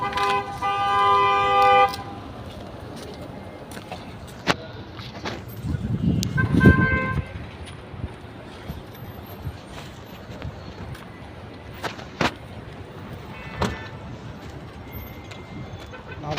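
A car horn gives a short toot in a shopping mall parking area in Jahra, Kuwait, heard amid steady outdoor traffic noise and a few other brief honks.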